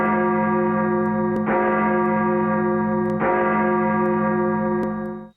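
The Victory Bell, the traveling trophy of the annual UNC vs. Duke football game, rings loud and close with three deep, resonant strikes, each tone sustaining and overlapping before fading out at the end.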